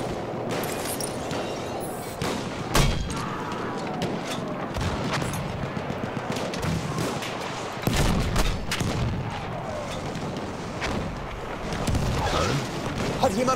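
Battlefield 1 combat on the Brusilov Keep conquest map: dense, continuous gunfire with repeated sharp shots and heavier booms of explosions throughout, with voices talking over the battle.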